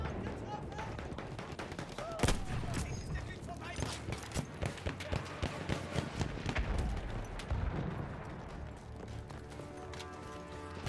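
Gunfire in the Battlefield 1 video game includes a sharp Martini rifle shot, with scattered gunshots and explosions in the battle background while someone talks over it.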